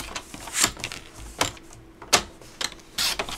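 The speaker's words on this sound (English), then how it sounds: "Then I'll bring in my trimmer and we're just going to trim around it to get that nice little border" Paper trimmer slicing around a craft piece to leave a small border, a few separate sharp cutting and clicking strokes spaced out over a few seconds, close and fairly quiet.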